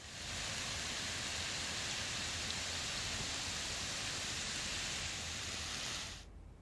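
Continuous heavy rain falls steadily over Rajkot during the monsoon, a dense even hiss that holds at one level for several seconds before cutting off abruptly near the end.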